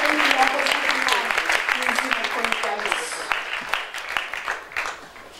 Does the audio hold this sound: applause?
yes